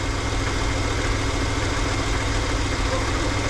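A $500 auction van's engine idles with a steady, rough low rumble and constant vibration, close and loud, with no voices over it.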